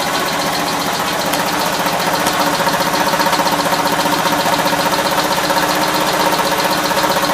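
A freshly built 450 engine running on its first start, with a loud, steady idle and a rapid, regular ticking knock riding on top of it.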